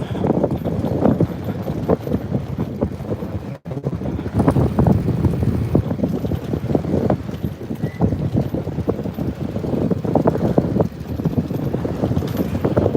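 Steady, loud wind rushing over the microphone with a constant broadband roar, a brief dropout near the middle, while riding a bicycle.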